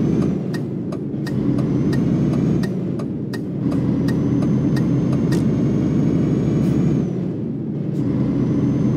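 A truck engine in Euro Truck Simulator 2 drones steadily and loud throughout, with a low rumble and occasional sharp clicks and hiss from air brakes or indicators over the constant hum.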